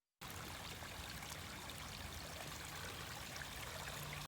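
River water on the Nile flows in a steady, dense rushing wash that stays constant and fairly loud from start to finish, with no voices over it.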